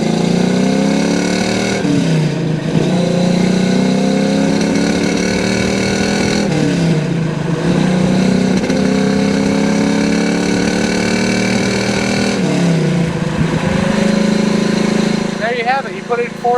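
A 1967 Chevrolet Camaro RS/SS with a 350 engine and four-speed manual accelerates through the gears, its loud, close engine note rising in pitch, dropping at each of several shifts, then climbing again.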